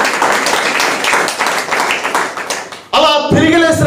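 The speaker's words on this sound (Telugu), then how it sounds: "గట్టిగా చప్పట్లు కొట్టి దేవుని మహిమపరుదాం." Church congregation at a Sunday Telugu Christian service clapping loudly together, a dense fast patter of many hands for about three seconds, then a voice speaks.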